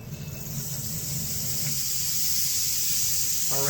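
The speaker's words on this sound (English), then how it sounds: "Our rainmaker." A rainmaker percussion instrument tipped to send a steady rushing hiss of tumbling beads, smooth and continuous, growing slightly louder as it goes, heard alone.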